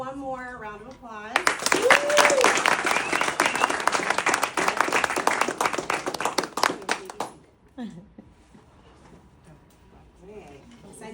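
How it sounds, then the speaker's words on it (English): An audience gives students another round of applause at a GVSA awards event, with talk at the start, then loud sustained clapping for about six seconds that tapers off before speech resumes. "let's give these deserving students one more round of applause"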